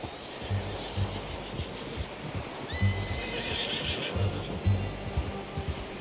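A horse in Red Dead Redemption 2 whinnies sharply amid steady hoof clip-clops and a windy, rushing background, the rhythmic hoofbeats continuing throughout.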